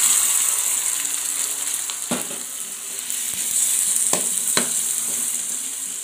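Squid for an East Javanese black squid dish goes into a hot pan and sizzles steadily and brightly, with a few sharp clicks and knocks of stirring on top of the continuous hiss.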